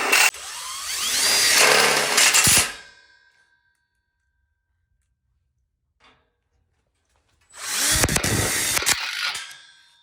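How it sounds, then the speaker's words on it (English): A power drill drives screws into a backsplash frame for an outdoor kitchen module, with two loud whirring bursts separated by a few seconds of near silence. "Now we have it all screwed together on one side."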